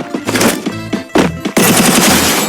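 Gunfire in a video game shooter, with several sharp, loud rapid-fire bursts close by, the last one running continuously to the end, and no voices.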